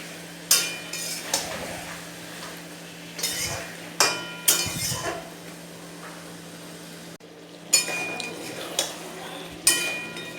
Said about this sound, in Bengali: মাংস থেকে যে জলটা বেরিয়েছে সেটা দিয়েই কষানো চলছে